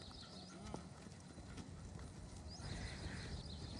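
Horse hooves clip-clopping on the ground as a young horse is lunged in training, a steady trotting rhythm with an occasional whinny, heard at moderate distance over a noisy outdoor background.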